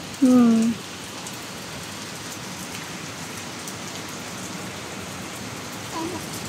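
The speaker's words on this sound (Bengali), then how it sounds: "মেঘলা আকাশ, ঝুম বৃষ্টি দেখছো?" Heavy rain falls steadily under an overcast sky, a continuous even wash of noise, with a brief vocal sound near the start.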